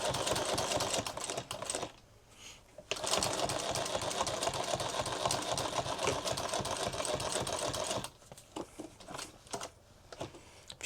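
A sewing machine stitches a duffle bag in rapid, rhythmic bursts, running steadily for long stretches with a couple of brief pauses and stop-start taps, close and clear with no talk over it.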